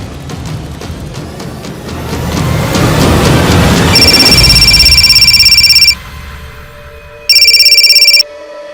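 A telephone rings in two loud electronic bursts, the first long, the second shorter after a pause, over a rumbling background that swells beforehand.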